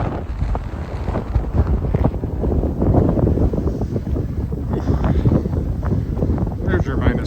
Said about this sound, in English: Now the wind is directly in my face.